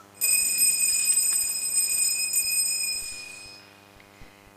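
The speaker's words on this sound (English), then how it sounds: "he could hear church bells" A bright, high bell rings once during a Sunday church service, its clear tone sustaining and then fading over roughly four seconds, with no voices over it.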